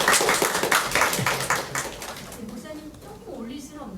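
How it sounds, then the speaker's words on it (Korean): Church members give a short round of clapping for the facilities team at a Sunday afternoon service. The applause is brisk and fades within about two seconds as a voice begins talking over it. "우리 시설부 위해서 한 박수로 합니다."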